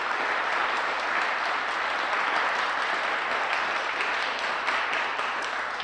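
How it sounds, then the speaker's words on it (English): A crowd at a public event applauding steadily, a continuous wash of clapping from many hands at an even level throughout, with no break or voices standing out. "Can we give them a round of applause,"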